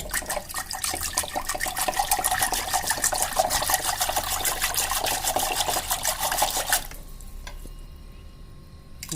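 Mixer churning curd with water for buttermilk, a loud steady whirring grind for about seven seconds that stops abruptly, followed by faint clicks.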